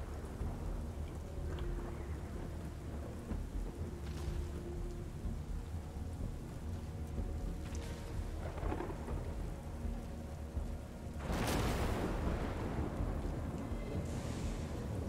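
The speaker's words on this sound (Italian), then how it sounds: "I tuoni, le tempeste addirittura" Thunderstorm in the Strayed Light video game: steady rain hisses throughout, with low rumbling thunder rolling in and a louder crack of thunder near the end.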